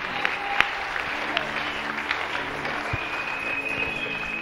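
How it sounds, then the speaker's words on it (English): A church congregation claps together at a deliverance prayer service, a steady wash of hands with some louder nearby claps, while faint voices carry underneath. "Clap for Jesus."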